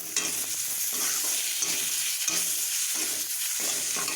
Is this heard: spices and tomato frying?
yes